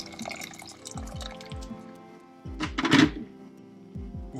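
Water is added to a pot of chopped vegetables for homemade tomato sauce: a series of close drips and splashes, then a brief, louder pouring rush near the middle, with quieter dripping afterward.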